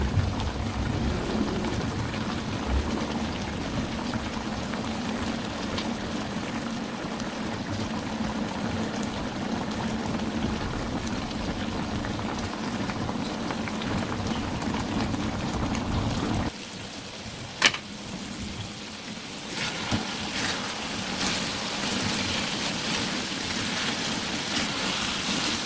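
Sweet and sour sauce with fried tofu, bay leaves and asam kandis simmering and reducing in a pan, a steady soft bubbling hiss throughout, with a brief quieter dip and a sharp clink near the end.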